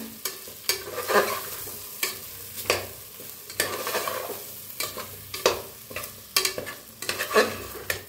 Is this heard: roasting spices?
yes